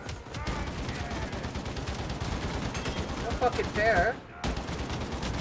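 Dense, continuous gunfire in the Warhammer 40K Darktide video game rattles on without a break, loud and close, while a voice briefly speaks over the shooting.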